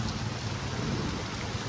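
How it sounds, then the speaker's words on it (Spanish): Steady, dense downpour of heavy rain in Huajuapan de León, Mexico, a constant loud hiss with low rumbling underneath, no voices. "No, está lloviendo bien fuerte."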